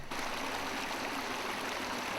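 A waterfall dropping about 15 metres in a forest river valley, its steady broadband rush of falling water continuous and loud throughout, with no voices.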